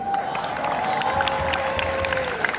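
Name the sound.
audience applause at a farewell ceremony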